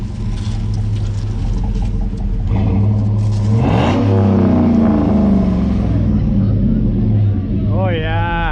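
A Honda S2000 engine revs at a Halloween car meet in North Durham, a loud, steady rumble that swells and climbs in pitch partway through, with people talking over it nearby.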